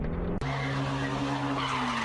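A car skids hard under sudden braking, its tires squealing in a loud, sustained screech that holds steady for a couple of seconds after a brief break.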